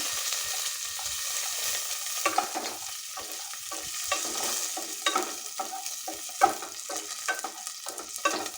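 Garlic dropped into a small amount of hot oil already tempered with spluttered cumin, pepper and curry leaves, sizzling steadily while a spoon stirs with intermittent scraping clicks, close up, no voices.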